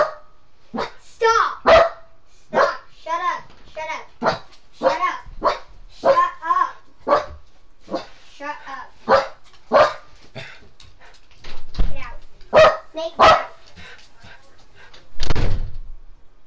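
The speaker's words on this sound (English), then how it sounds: "Barking at my door." A dog barking at a house door, several sharp barks spread through the clip in uneven bursts, close and loud, with a person speaking between them and a thumping knock near the end.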